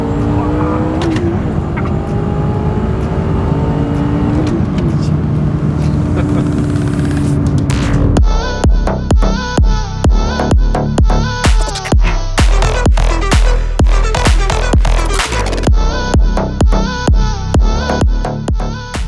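A fast car on a trackday at Mantorp Park racetrack: a steady close engine roar gives way to loud, rhythmic pulsing bursts as it drives hard.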